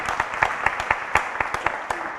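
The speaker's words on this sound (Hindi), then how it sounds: "ताली नहीं बजाओ," Audience in a Jain discourse hall clapping in a rhythmic, evenly spaced beat, sharp close claps repeating steadily throughout at a loud level.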